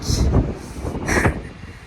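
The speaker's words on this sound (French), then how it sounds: "Il y a pas mal de vent." Gusty wind buffets an outdoor microphone in a city street beside a building, with two broad loud rushes and low rumbling swells over about two seconds and no speech.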